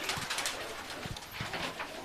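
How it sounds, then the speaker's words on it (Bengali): Several Madras pigeons coo in low, throaty bursts amid a steady busy background, with occasional soft fluttering. "আপনি একটু ওই সাইডে গিয়ে পায়রাগুলো এই সাইডে একটু ঘা দিন তো"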